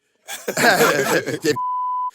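A voice speaks briefly, then a steady high-pitched censor bleep holds for about half a second, cutting off the talk.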